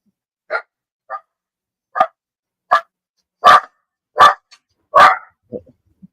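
A puppy lets out a series of about nine short, sharp barks and yips, spaced unevenly and growing louder toward the end, close by in an otherwise silent room.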